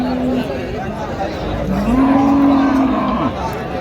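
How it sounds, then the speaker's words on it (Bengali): A cow lets out a drawn-out moo over the murmur of people chatting nearby, with a noisy outdoor livestock-market background at a village cattle market in Dinajpur, Bangladesh. "গাভী বাছুর আমরা দেখছিলাম এখানে"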